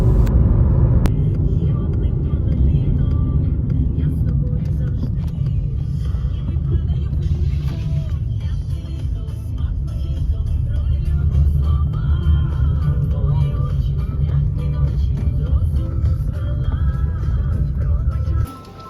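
A car drives along on a short trip, its low steady engine and road rumble filling the cabin at close range, with a person talking over the drone for most of the ride.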